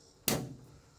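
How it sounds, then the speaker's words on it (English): A truck bed camper's hatch door is pulled down and shut, giving one sharp close-up thump followed by a brief fading rattle, heard alone without talk. "I could pull the hatch down and push down on here"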